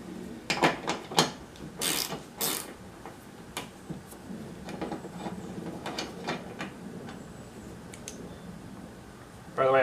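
Ratchet wrench clicking on 13 millimeter windshield wiper arm nuts, in a few quick close bursts of sharp ticking early on, then fainter clicks under ongoing talk.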